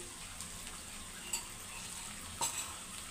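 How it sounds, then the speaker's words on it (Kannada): Oil sizzling and frying food in a pan, a steady soft crackle with a couple of brief louder spatters, no talk. "ಇನ್ನೊಂದು ಸ್ವಲ್ಪ ಎಣ್ಣೆ ಹಾಕ್ತೇನೆ."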